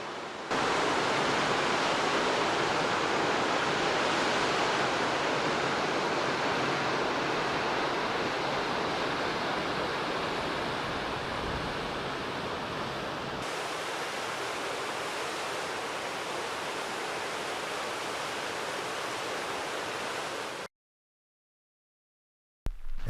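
Steelhead Falls on the Deschutes River in central Oregon roars as a loud, continuous broadband rush of falling water. The rush drops in level partway through and cuts off near the end.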